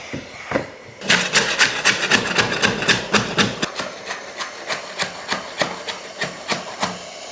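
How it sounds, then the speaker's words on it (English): Rough scraping of a cardboard-like material during a home renovation, a run of rapid, fairly loud rasping strokes close by, repeating in a steady rhythm with no talking. "It feels like cardboard when I'm trying to scrape it"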